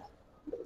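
Pigeons of a Giribaz blood line coo softly at a loft, a couple of low, brief throaty coos rising near the end of the short clip over quiet background.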